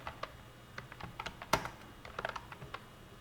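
Typing on a computer keyboard, quick irregular clicks of keys with a sharper louder keystroke in the middle, close and fairly quiet, no voices.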